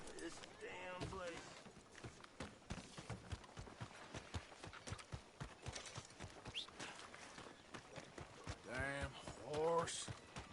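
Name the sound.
horse hooves clip-clopping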